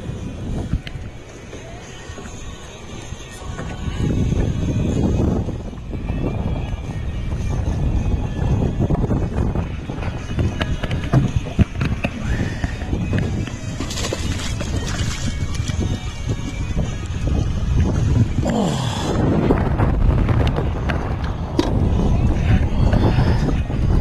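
Wind gusting across a lake during bass fishing from a boat, a continuous loud roar and microphone buffeting with rushing swells and water churning, steady throughout with no clear talk.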